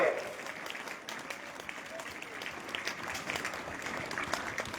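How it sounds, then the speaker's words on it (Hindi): A school audience claps for the eleventh-grade biology section students, a steady, dense wash of applause that holds through the whole stretch, with a slight lift toward the end. "तो जोरदार क्लैपिंग बायो सेक्शन के लिए"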